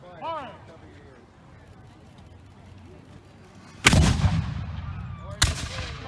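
A light 3-pounder cannon at a colonial Williamsburg demonstration fires a loud, sharp blast with a long rumbling echo, and a second crack follows about a second and a half later, after quiet talk.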